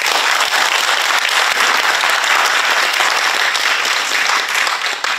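Sustained audience applause at the close of a regional forum on peace and unification in Cheonan, South Chungcheong, a dense, steady wash of many hands clapping at full volume throughout.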